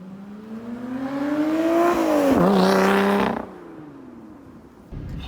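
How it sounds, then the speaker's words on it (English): A 2020 Lotus Evora GT with a six-speed manual in normal driving: the engine and exhaust hum rises smoothly in pitch under acceleration, dips briefly, then drops away as the revs fall. "You do hear the exhaust noise upon acceleration, but in normal driving, as we are doing right now, it's not overpowering by any means"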